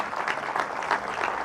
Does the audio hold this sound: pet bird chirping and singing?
no